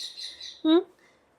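A pet parrot at home in the morning gives one short, loud, harsh squawk after a few faint chirps, then the room goes quiet.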